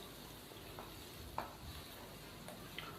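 Chicken karahi mixture stirred in a pan for a Mughlai chicken dish, a soft steady sizzle with a few brief scraping strokes of the spoon, close and alone with no talk.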